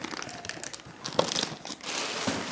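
Polythene packaging around a new Bajaj electric iron crinkles and rustles close up in short handled bursts, quiet and with no talking.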